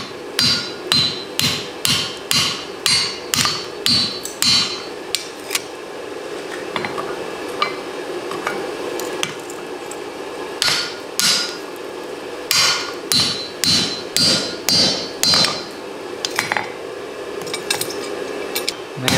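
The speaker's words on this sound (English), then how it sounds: "Now they need to be split, so I'm taking a blunt hardy rather than the narrow one." Rebar tongs are hammered on a blunt hardy set in an anvil for splitting: loud, ringing metal-on-metal blows in rapid bursts separated by short pauses, close up with no talking.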